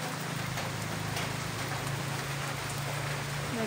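Steady rain pours down outdoors while corn cooks, a dense, even hiss of drops on surfaces with a low hum beneath and no break for the whole stretch.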